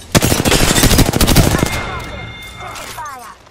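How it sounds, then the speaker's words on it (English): Rapid automatic gunfire rattles close and loud in Apex Legends for about a second and a half, then cuts off and leaves lingering echoes and faint game sounds. "They're shooting at me."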